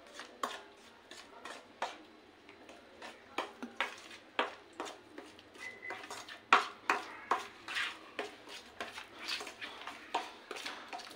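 Brinjal fry ingredients with ginger and oil being mixed in a pan, a utensil clinking and scraping in a steady run of sharp close knocks throughout, with no talking.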